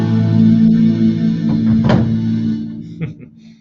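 An electric guitar run through effects hums with a thick, droning synth-like tone, a steady sustained note with a swelling accent midway, loud and alone before easing off near the end.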